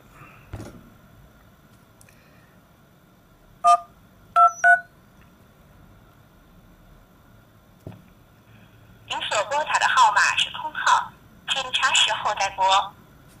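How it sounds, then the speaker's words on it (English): A ZOPO C2 16GB smartphone dialing a call: a few short isolated keypad tones, then longer bursts of phone audio, with a person talking nearby. "we can make a phone call"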